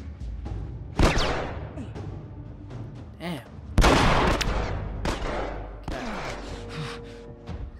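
Gunfire in The Last of Us video game, a scattered sequence of sharp shots and heavier booming blasts at varying distances, with occasional thuds amid a busy combat soundscape.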